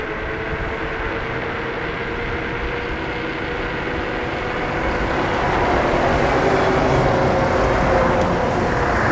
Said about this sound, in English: So there's a subway train underneath us here.